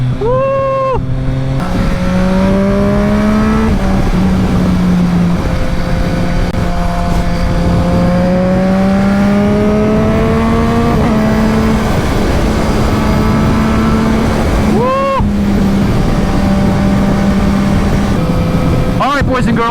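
A Triumph Street Triple RS motorcycle with an aftermarket exhaust accelerates at full throttle on a highway, the engine howling loud and close as its pitch climbs through the gears with brief dips at each shift.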